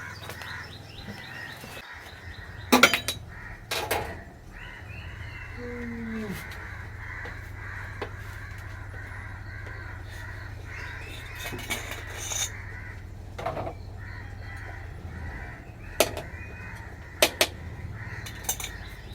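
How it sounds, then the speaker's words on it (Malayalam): Crows caw loudly in the morning in a few sharp bursts over a steady low hum, with scattered bird chirps between the calls. "കാക്കകളെ സംസ്ഥാന സമ്മേളനം നടക്കുന്നുണ്ട് രാവിലെ തന്നെ. ഭയങ്കര ഒച്ചമൊളി ഉണ്ടാക്കുന്നുണ്ട്."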